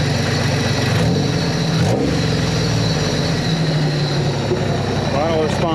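A Pontiac Fiero engine revs loudly and continuously nearby, a throttle-blipping drone with rising and falling pitch, while a person talks over it.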